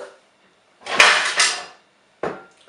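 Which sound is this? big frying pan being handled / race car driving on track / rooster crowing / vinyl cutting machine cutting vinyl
big frying pan being handled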